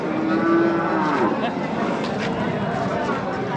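A cow moos with a long, low call over a busy crowd of talking voices at the Chakan cattle market, with the market chatter continuing throughout.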